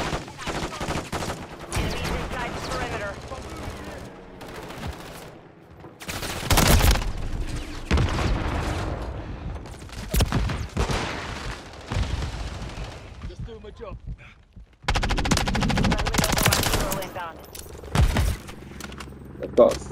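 Rapid gunfire from a multiplayer shooter video game crackles in dense bursts and fusillades across the whole stretch, pausing briefly before resuming loudly, with the player talking over parts of it.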